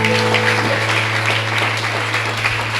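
A church congregation at a Spanish-language retreat breaks into sustained applause, a dense, steady wash of clapping that fills the room for a few seconds over a low steady hum.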